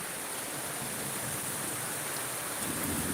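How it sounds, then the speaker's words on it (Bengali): Heavy rain pours down during a strong storm as a steady, loud roar that fills the whole moment. No distinct thunderclap stands out, and there is no talking. "দেখতে পাচ্ছেন প্রচুর পরিমাণ বৃষ্টি হচ্ছে এখন"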